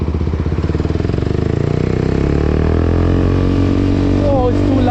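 A Kawasaki Ninja motorcycle fitted with an Akrapovic exhaust without a dB killer rumbles loudly and close on a test ride. The engine pulses at idle, then revs up into a steady, throaty drone.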